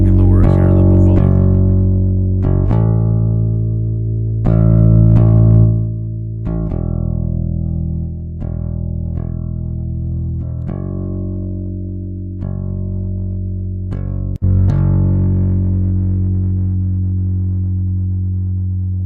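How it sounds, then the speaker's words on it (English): Bass guitar played through Fender Studio effects, a series of sustained low notes and plucked tones with distortion and chorus coloring, steady and fairly loud with clear note changes every couple of seconds and no talking. "just to give you some examples here on the bass guitar tones"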